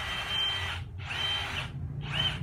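Dewalt cordless battery drill, a concrete drill and chisel model, running in three bursts separated by brief pauses, loud and close with a steady high whine and no talking.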